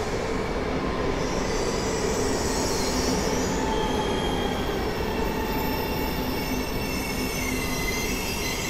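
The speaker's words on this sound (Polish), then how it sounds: "Wjeżdża kolejne już dzisiaj dziobaczysko, tym razem do Rzeszowa Głównego." A train bound for Rzeszów Główny pulls into Warszawa Zachodnia station after dark, with a loud, continuous rumble of rolling wagons and sustained wheel squeal. No voices are heard.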